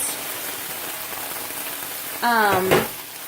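Oil sizzles and crackles steadily in a hot pan. Canned tomatoes go in near the end, which brings a louder burst of hissing and a brief splatter. A voice is heard faintly underneath.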